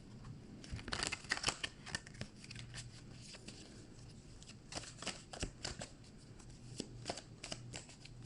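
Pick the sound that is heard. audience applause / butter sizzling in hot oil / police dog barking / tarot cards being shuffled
tarot cards being shuffled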